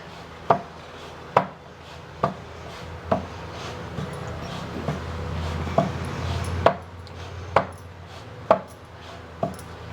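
Dried papads (appadalu) are pressed and crushed lightly by hand in a home kitchen, giving a steady series of about a dozen sharp, crisp crackles spaced roughly a second apart, close and clear with no talking.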